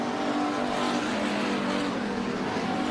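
Race cars roaring steadily around the dirt oval at Bakersfield Speedway during a Nationals heat race, a dense, continuous engine drone with layered motors close by and no clear breaks.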